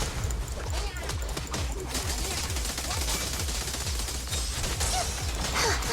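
Sustained video game gunfire, with rapid low thumping shots repeating steadily throughout, loud and continuous under a busy mix of effects.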